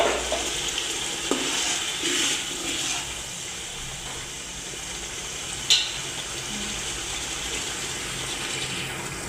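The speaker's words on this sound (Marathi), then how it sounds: "पाणी टाकले" Steady stream of water pouring and splashing into a pot while making chicken dum biryani, fairly quiet and continuous, with a small clink partway through and no voices.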